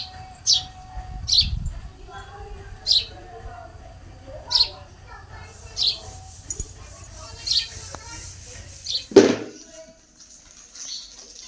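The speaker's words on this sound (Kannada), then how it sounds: "ಈಚೆ ಸೌಂಡ್ ಏನಂತ ನೋಡೋಕೆ ಹೋದರೆ ಪಕ್ಷಿಗಳ ಸೌಂಡು" Birds chirp outside a home in short, sharp, evenly spaced calls roughly once a second, fairly close, with soft household noise and a voice underneath.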